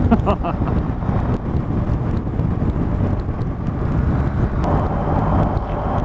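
BMW GS motorcycle engine on a motorway, a steady loud roar mixed with heavy wind buffeting and road noise, rising slightly near the end.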